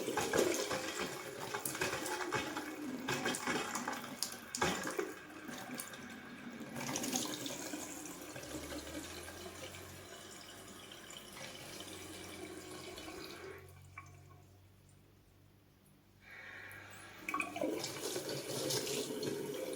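Water gushing steadily from a tap, pushed by a pump running off a car battery, under a low motor hum, the flow briefly dropping off near the end before resuming as pressure falls.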